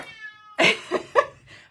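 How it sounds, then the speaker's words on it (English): A male cat meows angrily from behind a shut door, three or four loud, harsh, drawn-out yowls in close succession after a brief high tonal sound. "cat is angry. He wants to come in"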